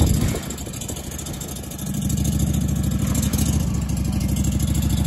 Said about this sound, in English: Got a 17 horsepower V-twin Kawasaki on it.